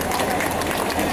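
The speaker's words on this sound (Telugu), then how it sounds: "కమాన్ మేడం గారికి కమాన్ క్లాప్స్" An audience at an Ugadi celebration claps in a steady, noisy patter that fills the short moment, a dense crowd applause at moderate loudness without a clear start or end.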